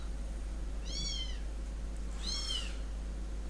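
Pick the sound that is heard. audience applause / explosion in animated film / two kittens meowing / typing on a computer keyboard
two kittens meowing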